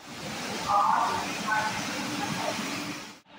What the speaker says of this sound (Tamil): எல்லாம் சவுத் சைடில் இருக்க ட்ரெயின் பார்த்தீங்கன்னா எல்லாம் வந்துகிட்டு இருக்கும்